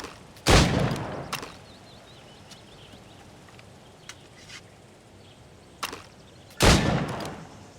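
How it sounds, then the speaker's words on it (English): Gunfire at targets in the Assassin's Creed Rogue video game: two loud, sharp shots spaced several seconds apart, with a few fainter cracks between them over quiet outdoor ambience. "Shoot these targets."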